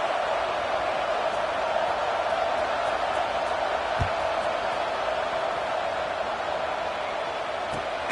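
Stadium crowd at a college football game in a video game, Ole Miss against South Carolina, a steady broad roar of many voices that stays at an even level throughout, with a couple of faint thumps.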